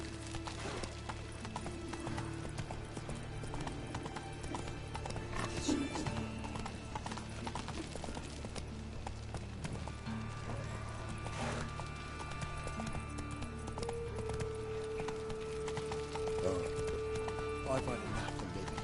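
Roach, a horse in The Witcher 3 video game, trots with a steady clip-clop of hooves running through the whole stretch, with a brief whinny, game ambience and someone talking over it.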